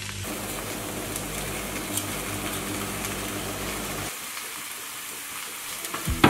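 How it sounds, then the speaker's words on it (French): Three sliced courgettes sautéing in a drizzle of olive oil with a clove of garlic, a steady, loud, close sizzle and crackle that continues without pause and drops slightly in level toward the end. "j'ai coupé 3 belles courgettes, pareil que je fais revenir dans un filet d'huile d'olive"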